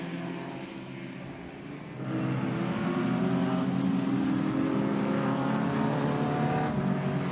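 Historic touring cars, an Alfa Romeo and a Ford Escort, racing on a twisty circuit, engines droning steadily then swelling louder as they accelerate past, with a high whine laid over the roar.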